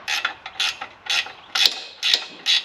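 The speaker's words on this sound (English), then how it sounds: "Then we're going to use 7/16 inch wrench." Ratcheting 7/16 inch wrench turning a bolt on a Split-Fire 1165V vertical log splitter, six bright clicking bursts in a steady back-and-forth rhythm, close up with no talking.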